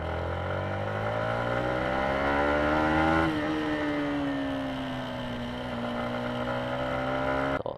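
A motorcycle engine drones loudly and continuously, heard through an open helmet visor, its pitch climbing through gears then dropping and settling, up close with wind rush.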